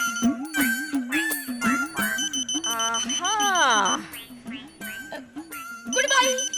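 A wristwatch alarm gives short bursts of rapid, high beeping during an Indian sitcom scene at home, partly buried under loud, animated talking from a woman and others.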